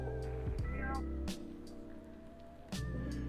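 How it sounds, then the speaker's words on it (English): A faint cat meow comes through a noisy, humming radio channel, brief and distant, with crackling static around it. "I just heard a meow on frequency."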